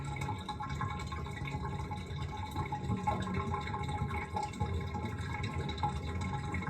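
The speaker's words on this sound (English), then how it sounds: "So it takes a few minutes for it to drain." Bathtub water draining slowly, a steady low gurgling and trickling wash that continues evenly throughout without any voices.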